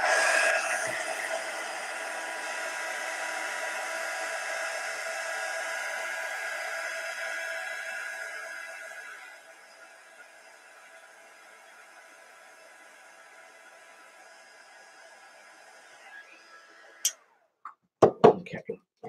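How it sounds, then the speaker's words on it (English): A hair dryer blows steadily on wet craft work, a broad airy whir that runs for several seconds, then drops away to quiet before a few handling clatters. "All right, let me hit that with the dryer real quick."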